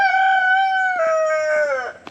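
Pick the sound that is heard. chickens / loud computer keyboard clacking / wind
chickens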